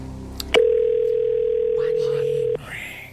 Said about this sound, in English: One long ring. That was a long ring.